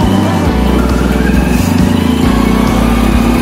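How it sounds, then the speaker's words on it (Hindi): A tractor driving along a village road in Bulandshahr, Uttar Pradesh, with a horse-drawn cart nearby; its engine makes a steady, loud, low thrum that runs continuously and close throughout. "और पीछे ट्रैक्टर आ रहा है।"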